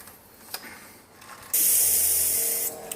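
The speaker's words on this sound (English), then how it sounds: "Ash is spraying on now our multi-enzyme coil cleaner." Multi-enzyme coil cleaner sprayed onto an air-conditioner coil: after a couple of faint clicks, a loud, steady hissing spray starts abruptly and runs for about a second before cutting off, with a small tap at the end.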